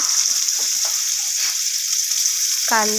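Onion sautéing in hot oil with mustard seeds and cumin, a loud, steady sizzle up close, ending with a brief voice.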